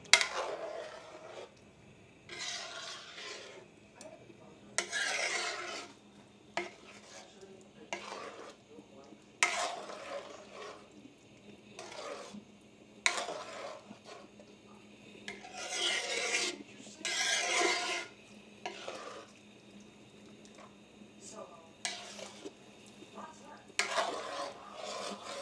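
Pork dinuguan with blood being stirred in a pot, a spoon scraping and rasping against the metal in repeated strokes, close and steady over a low background hum, with no talk.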